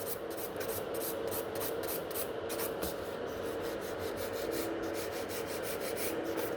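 A nail file tapers gel nail extensions with rapid, even back-and-forth rubbing strokes, close and fairly quiet, continuing steadily with no speech.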